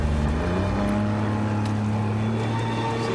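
A small plastic boat moving on open water, its steady motor-like drone running continuously and loudly with wind buffeting the microphone.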